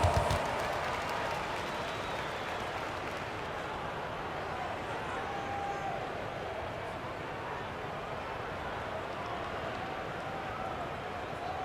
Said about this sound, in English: Yourself a round of applause.